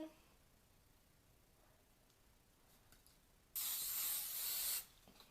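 A single burst of aerosol hair spray hisses for about a second, close and crisp, in an otherwise quiet room.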